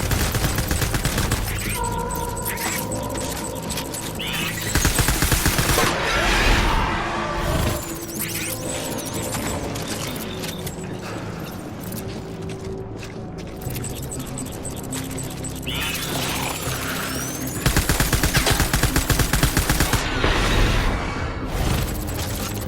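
Dense, sustained gunfire in the video game Death Stranding: rapid automatic bursts and loud impacts over a noisy, chaotic background, with brief lulls between the heavier volleys.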